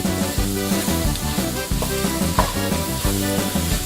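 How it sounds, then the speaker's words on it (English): A spoon stirs seasonings through a sizzling roux for Cajun gumbo, giving a steady frying crackle with spoon scrapes and soft clanks against the pot. "let's kind of get this stirring around really good in that roux"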